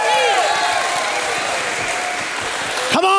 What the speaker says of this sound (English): stand up and give God a hand clap and a shout of praise